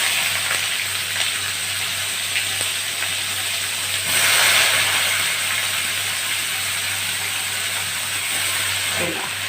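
Water lily stems frying in a pan with browned garlic, a steady close sizzle with a brief louder surge near the middle, no talk.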